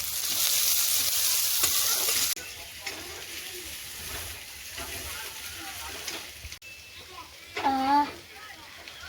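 Chopped onion, slit green chillies and ginger fry in leftover oil in a wok, a close steady sizzle with stirring, and a person talks over it.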